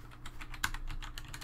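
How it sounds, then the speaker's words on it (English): Someone types on a computer keyboard, a quick run of light, irregular key clicks at moderate volume with no talking. "I'm just going to type it in so you know."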